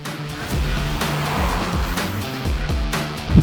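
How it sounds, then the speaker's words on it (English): Engine note from a 2023 Hyundai Alcazar with its 160hp turbo-petrol engine pulling under acceleration, a steady mid-range drone with low harmonics that shift through the clip. It is heard from inside the car, fairly loud and continuous, with no talking. "it relies on the engine's mid-range grunt to pull ahead."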